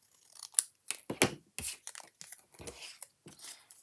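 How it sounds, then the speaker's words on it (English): Scissors cutting through paper card while making snail mail, a close series of crisp snips and sliding cuts at an uneven pace, alone without talk. "This piece I am going to cut off right here."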